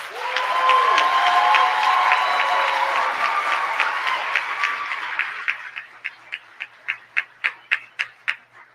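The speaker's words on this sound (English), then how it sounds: "let's give a round of applause for our Dean's List Scholars" At a college honors program ceremony, a room of people applauds for Dean's List scholars, the dense clapping thinning out until a few scattered final claps remain.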